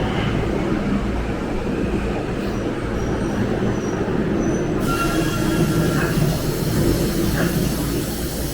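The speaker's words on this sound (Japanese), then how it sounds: "The local train bound for Asakusa is arriving at track 2." A local train bound for Asakusa pulls into a Japanese station platform, giving a loud steady rumble of wheels on rails with high metallic squealing that continues throughout.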